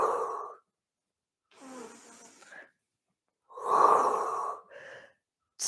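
Slow, audible breaths drawn in and let out during a Pilates exercise, close and breathy, in separate bursts with silent pauses between them.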